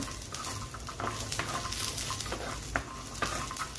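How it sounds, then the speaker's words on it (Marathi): Cashews, garlic and ginger roasting in a pan, a steady close sizzle with intermittent scraping stirs and a couple of sharper clicks of the spoon against the pan. "बघू शकता आता काजू, लसूण, अद्रक सगळी व्यवस्थित भाजलेली।"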